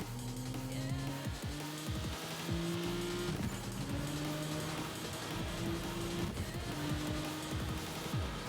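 Racing video game car engine roaring and revving in a rising, repeating pattern of gear shifts, loud and continuous with busy game noise layered on top.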